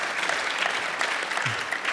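Audience applause during a conversation event, a short continuous stretch of many hands clapping at an even, steady level, with no talk over it.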